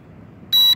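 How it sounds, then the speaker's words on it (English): A toy practice drone gives a single short, sharp electronic beep as its remote control connects, loud and close after a quiet lead-in. "It connected, you hear the beep."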